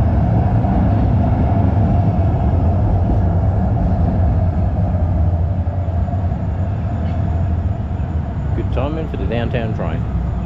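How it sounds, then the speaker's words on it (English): A downtown train passes close by on a January street walk in Calgary, a loud, steady rumble and roar filling the whole stretch, with a voice briefly heard near the end. "Downtown train."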